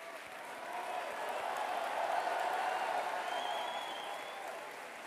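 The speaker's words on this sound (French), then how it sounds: "Merci à vous de les avoir tous et toutes applaudis à l'instant" A large audience at a French presidential first-round election night rally applauds steadily, a dense wash of clapping that swells and holds for several seconds with crowd noise, no speech over it.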